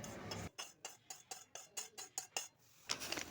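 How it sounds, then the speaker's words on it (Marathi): Roasted semolina is scraped out of a pan onto a plate with about ten quick, evenly spaced metallic scrapes and taps of a spoon, close by, then a final louder clink. "हा रवा मी एका प्लेटमध्ये काढून घेणार आहे."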